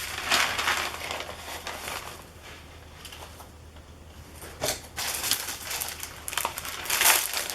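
Rice paper being crumpled for an art journal, loud crinkling and crushing in bursts at the start and again toward the end, with a quieter pause between.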